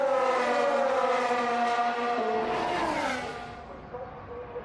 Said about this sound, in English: Hamilton absolutely flying, full 9 tenths faster than Raikkonen.